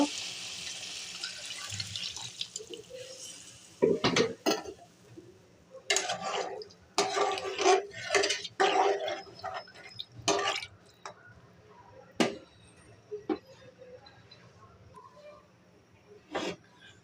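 Water is poured into a pan of sautéed ash gourd in several separate splashing bursts, with short pauses and a few drips between them.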